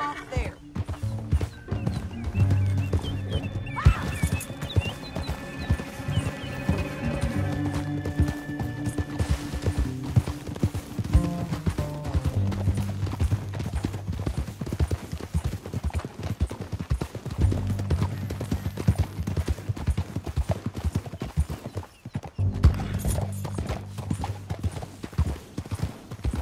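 Horse hooves clop at a steady galloping rhythm in Red Dead Redemption 2, loud and continuous across a canyon ride, with music and occasional voices over them.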